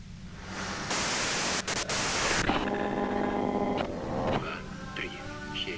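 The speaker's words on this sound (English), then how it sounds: "you can do it through the white noise" A burst of loud, harsh white-noise static from the Disco Elysium video game hisses for about a second and a half, then gives way to quieter layered game tones and hum.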